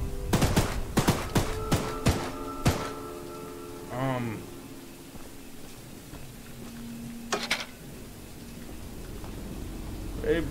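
Gunfire in the video game Choo Choo Charles: a rapid volley of loud, sharp shots packed into the opening seconds, then a sparser crack or two over a humming, droning game ambience.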